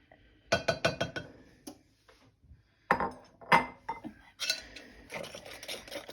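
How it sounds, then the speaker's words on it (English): A whisk clinks briskly against a bowl while stirring gluten-free brownie batter, in quick rattling bursts with short pauses between them, close and fairly quiet. "Give that a nice whisk."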